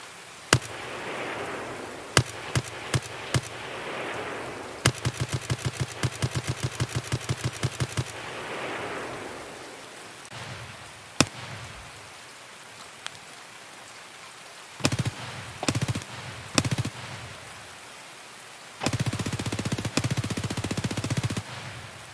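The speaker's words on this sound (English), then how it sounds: "I do want to continue recording gun sounds for this game" Distant gunfire in the Escape from Tarkov video game: scattered single cracks and several rapid automatic bursts, faint and far off, separated by quiet gaps.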